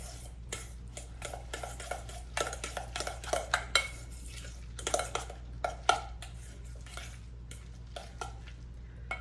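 Lasagna filling being stirred in a bowl, a string of soft scraping and clinking strokes from a utensil against the dish, irregular and close, over a low steady hum, with no speech.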